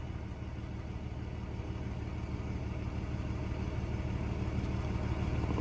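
A 3rd-generation Cummins diesel pickup engine idles steadily with its cooling fan running, a low, even rumble with a soft rhythmic clatter that swells slightly over a few seconds, heard up close with no one talking.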